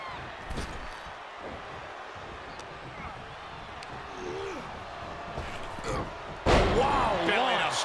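Thuds and impacts in a WWE 2K24 NXT wrestling match, scattered bumps on the mat followed by a loud heavy slam from a belly-to-belly suplex near the end, with crowd noise and commentary voices throughout.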